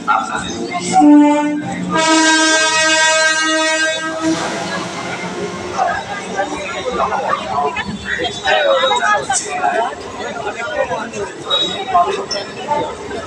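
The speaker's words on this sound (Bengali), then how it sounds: "ট্রেনটাও এসে গেছে।" A Sealdah local train pulls into Hridaypur station with a loud, sustained horn blast, followed by rumbling wheels and carriages rolling by as a crowd murmurs and a voice speaks over a loudspeaker nearby.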